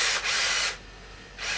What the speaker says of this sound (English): some little countersinks through these battens before I drill them down, because this is just pine